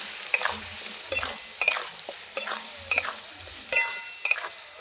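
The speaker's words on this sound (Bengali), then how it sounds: "লবণ দেবো এবার ভালো করে নাড়াচাড়া করে নেব" Spiced potatoes stirred in a pan for a shankar (stingray) fish curry, with chili powder and salt added: a spoon scrapes the pan in repeated sharp strokes roughly every half second over a faint steady sizzle, close up and without talk.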